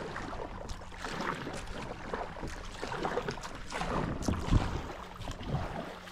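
A kayak glides along a river in Goa, giving a steady wash of water and breezy rush across the whole stretch, with a few soft paddle splashes swelling now and then.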